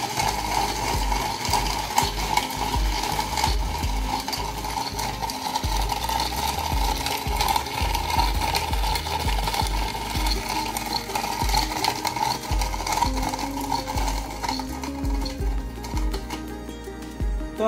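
A hand-operated manual blender chops nuts with continuous close clattering and ratcheting, a steady churning mechanical rattle that keeps up throughout.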